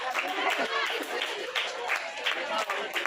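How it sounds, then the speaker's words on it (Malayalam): Family gathering audience of a Salafi mahallu community group in Chentrappinni clapping together, a dense continuous patter of hands filling the hall with no pause, close and steady throughout. "എല്ലാവരും സപ്പോർട്ട് ചെയ്യണം. നല്ല കൈയടി കൊടുക്കുക."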